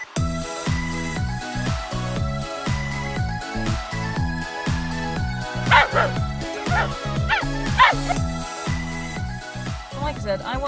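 Several pet dogs bark and yip outdoors in a garden with trees, their bursts close and repeated over a steady rhythmic background, while a voice is heard in between.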